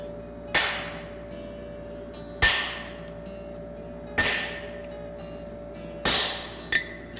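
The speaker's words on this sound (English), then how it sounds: "I can clean up the inside of my heels here as well with a flatter." Hammer blows strike a flatter held on a patten bar horseshoe at the anvil, four sharp ringing hits about two seconds apart, with a small extra tap after the last one.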